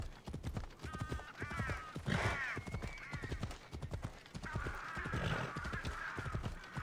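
Horse hooves clip-clop steadily in Assassin's Creed Odyssey, a close, even rhythm of strikes running throughout, with a whinny and brief bird-like calls overhead.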